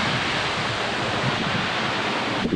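Strong wind roars against the microphone outdoors, a loud, continuous rushing noise that stays steady and broad without any pauses or talking.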